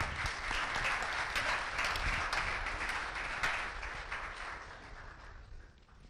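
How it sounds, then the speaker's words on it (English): Audience at a startup demo day breaks into steady, dense applause from a roomful of people, heard at a distance and easing slightly toward the end. "Big round of applause for Drone City."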